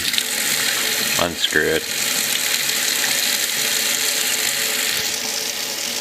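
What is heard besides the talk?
tap water rinsing Stardust CE5 clearomizer stem and head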